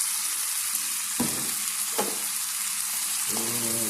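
Noodles frying in a pan give a steady close sizzle, with three brief scrapes of stirring breaking through the hiss and no one talking.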